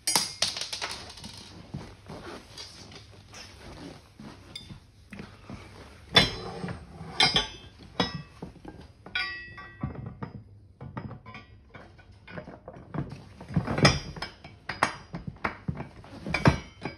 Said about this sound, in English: put in the bolt into the top slot